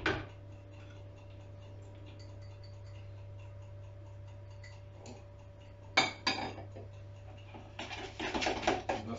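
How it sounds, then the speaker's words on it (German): Mustard, vinegar, diced pickles and onions being stirred in a bowl: a quiet, steady run of small spoon ticks against the side, growing louder and busier toward the end over a faint background hum. "Und das wird dann verrührt."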